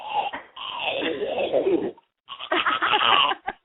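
A voice makes garbled, groaning moans in two bursts separated by a short pause, imitating a zombie's speech.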